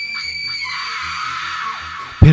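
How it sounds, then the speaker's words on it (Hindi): A drawn-out, high, piercing scream from a Hindi horror story set at Bhangarh holds steady and fades, then ends in a sudden loud bang or thud. "जोरों की चीख सुनाई दी"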